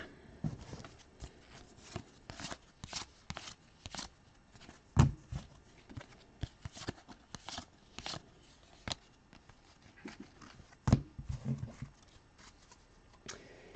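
Trading cards turned over one after another during a live basketball card break, with soft, close flicks and snaps in an irregular rhythm against a quiet room, including a few sharper slaps.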